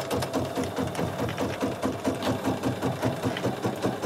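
Bernina 7 series sewing machine with its embroidery module running a basting stitch, a steady close mechanical whirring with rapid even needle clatter throughout.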